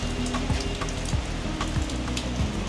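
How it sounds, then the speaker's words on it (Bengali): Light rain falling outside a restaurant at the Bangladesh Air Force Museum, a close steady patter and drip with scattered droplet ticks over a low hum, no voices. "এখন বৃষ্টি অনেকটা কমে গেছে"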